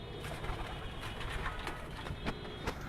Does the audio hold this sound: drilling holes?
no